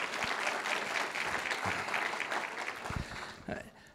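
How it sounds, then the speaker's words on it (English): An audience at a university distinguished lecture gives a round of applause, a fairly soft, sustained wash of many clapping hands that tapers toward the end, with some voices underneath. "Why don't we give them a round of applause"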